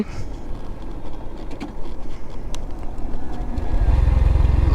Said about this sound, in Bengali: আমি বাইকের ক্লিং সুইচ বন্ধ করে দিছি এবং নিচের দিকে নেমে যাচ্ছি